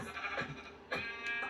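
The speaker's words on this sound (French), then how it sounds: "Ah, un autre mouton." Two short bleats from a Minecraft sheep, one near the start and a louder one about a second in, over a steady synthetic background hum.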